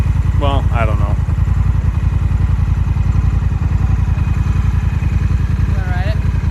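A Honda Rebel 1100 motorcycle idles close by with a steady, loud, throbbing engine pulse, while people talk briefly over it.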